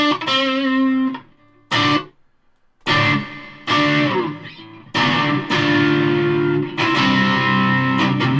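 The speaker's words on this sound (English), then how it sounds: "That's reverb." An electric guitar played through the reverb setting of a Zoom 606 multi-effects pedal rings out in chords and notes with lingering tails, broken by brief pauses.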